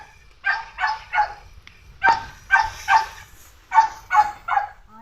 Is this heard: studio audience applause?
no